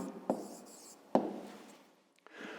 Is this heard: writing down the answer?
yes